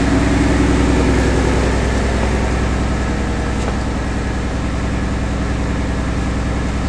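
A right-hand-drive Ford Mustang GT350 with a newly installed intake manifold idles just over 1,000 RPM, giving a steady, loud, even rumble with no voices.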